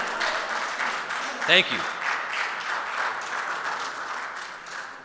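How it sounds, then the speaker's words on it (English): Audience applause fills a conference hall at an ophthalmology congress, a steady broadband clapping that runs throughout, with a brief spoken thanks near the start. "Maybe I should stop now because everyone clapped"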